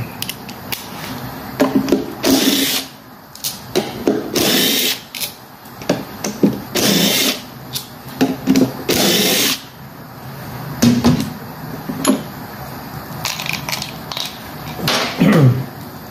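Power tool backing out the starter screws on a PB-580T engine, short bursts of whirring separated by pauses, close and fairly loud with no talking.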